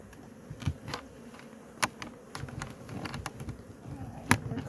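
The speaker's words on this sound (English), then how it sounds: "there's a lot of bees flying in and" Honey bees flying in and out around a hive, a close, steady buzzing swarm with scattered sharp clicks and knocks from handling the hive.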